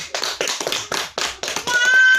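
A group of women clap together at a community family-development meeting on money management and business planning, a few loose, uneven bursts of hand claps that quickly trail off into a steadier sustained sound.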